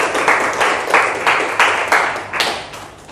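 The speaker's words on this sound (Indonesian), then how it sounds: "Silakan berikan tepuk tangan untuk Sutrisno." A classroom of students in Indonesia applauds a presenter, a dense burst of hand clapping that comes in repeated loud waves for several seconds, close by.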